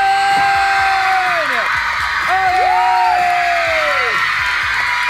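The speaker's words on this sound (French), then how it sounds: "Je vous demande d'applaudir Liam, Niall, Louis, Zayn et Harry" A studio crowd cheers and applauds for One Direction on a French radio show, loud sustained clapping with high shrieks and whoops throughout, voices calling out over the din.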